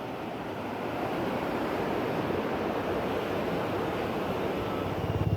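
Rushing river current at the Dudhia picnic spot, a steady, dense broadband roar of flowing water that holds constant throughout, close and fairly loud, with no voices.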